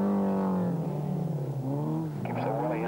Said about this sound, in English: Louise Aitken Walker contrasting that with a neat, tight line in the Peugeot 205